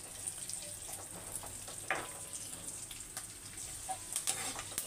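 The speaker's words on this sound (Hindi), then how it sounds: "अभी हमारे ड्राई फ्रूट जो है रोस्ट हो गए, अभी इन्हें हम निकाल लेते हैं।" Dry fruits and raisins roasting in ghee give a faint, crackly sizzle with soft scattered pops and a few light stirring scrapes, quiet and steady over a low background, with no speech.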